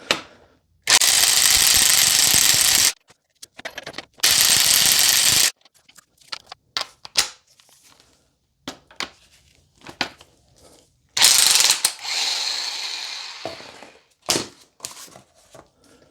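Front strut assembly of a 2001 Jaguar XK8 on the bench, loud bursts of rapid buzzing ratchet or power-tool action alternating with sharp metallic clicks and clacks, one burst winding down toward the end.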